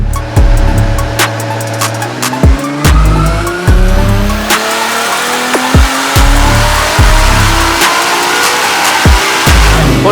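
Toyota GT86 with a 1,200-horsepower engine revving hard, loud repeated sharp blips and rising pulls close by, each rev quickly cutting back before the next, with no talking.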